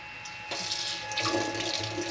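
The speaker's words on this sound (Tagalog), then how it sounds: "Malakas ang tubig." A tap fed by a deep-well pressure tank and power pump in a house bursts into a strong, loud, steady gush of water, with a faint hum under it.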